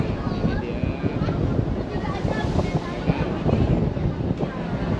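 Strong wind buffets the microphone of a GoPro 11 aboard a boat, with waves and water rushing beneath in a loud, continuous roar. A voice can be heard faintly under the noise.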